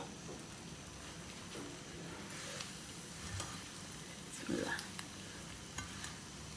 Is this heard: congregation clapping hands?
no